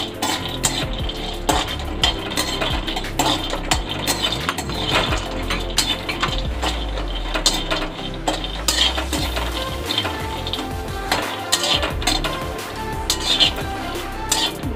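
Cashews and pistachios being dry-roasted in a pan over low heat, with steady stirring and scraping plus faint sizzle and light clinks of a utensil against the pan, continuous throughout and close up.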